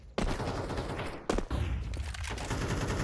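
Gunfire in a competitive first-person shooter match, a player firing through a wall to hit an enemy behind it: dense, loud bursts of rapid shots run nearly throughout, with a brief break before a second sharp volley.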